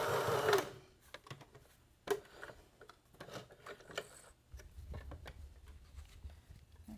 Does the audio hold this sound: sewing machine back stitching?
yes